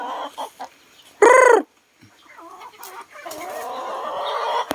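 Chickens clucking in a yard with wild junglefowl among them, one loud, close squawking call standing out briefly amid softer scattered clucks and rustling.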